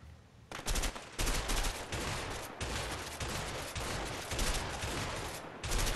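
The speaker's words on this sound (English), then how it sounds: "Put down suppressive fire." Dense video game gunfire rattles almost nonstop, loud bursts of automatic weapons overlapping in a sustained fusillade with only brief gaps.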